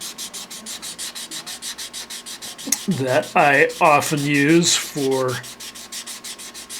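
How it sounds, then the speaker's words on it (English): A worn-out 320 grit sanding sponge rubs over painted model paint in fast, steady rasping strokes close by, with a person talking over the second half. "I've got just this kind of worn out 320 grit sanding sponge"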